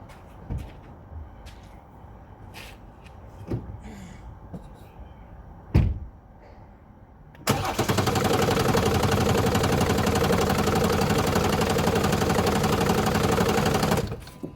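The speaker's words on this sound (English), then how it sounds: "Now I'm going to crank the engine." A BMW 430d Gran Coupe diesel, F36 4 Series, is cranked after some quiet handling clicks and knocks, then settles into a loud, steady, close rattling idle that runs for several seconds before ending.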